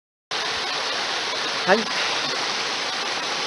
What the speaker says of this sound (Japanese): 沢ですね。